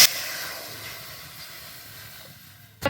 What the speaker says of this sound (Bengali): কড়াইতে আমি জল দিয়ে দিচ্ছি।